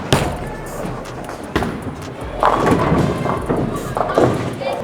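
A bowling ball is released with a thud and rolls down the lane toward the pins, followed by a rumbling, clattering impact at the far end amid bowling-alley background noise.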